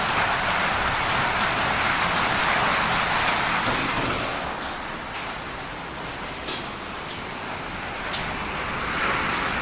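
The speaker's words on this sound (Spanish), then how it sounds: "Es impresionante la lluvia y la tormenta." Heavy rain pouring during a storm in Alta Gracia, with water rushing down the street, a dense, continuous hiss that stays loud throughout.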